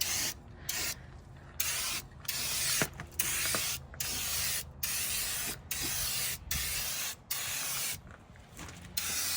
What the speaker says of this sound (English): Spray right over that.